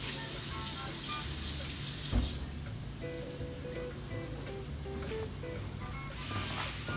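Water from a kitchen tap runs steadily onto a small old dish towel at a sink, a broad continuous rush close by, with a brief bump partway through and a low background hum.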